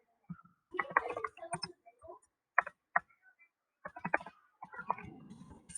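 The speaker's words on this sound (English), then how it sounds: "I'm typing in the search bar." Keys on a computer keyboard clack in quick irregular bursts with brief pauses, close and fairly quiet, as someone types into a search bar.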